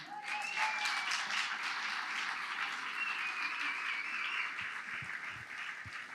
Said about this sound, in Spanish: se merecen un fuerte aplauso